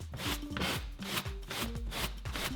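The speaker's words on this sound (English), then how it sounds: "groom the pile of the rug open and release any more big bits of grit" A nail brush scrubs a car's carpeted floor mat in quick, rhythmic strokes, a close, steady bristly rasping that repeats several times a second with no talking.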